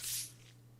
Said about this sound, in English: it plays a splash